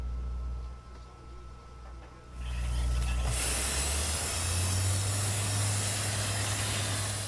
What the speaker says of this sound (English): FIU researchers use a hose to spray the ultra-high performance concrete where it's needed